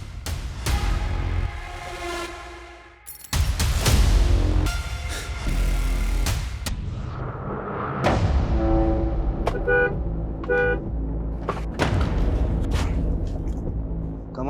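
Car horns honk in repeated loud blasts, some long and some short, at a car left stopped in the middle of the road, with traffic noise between them.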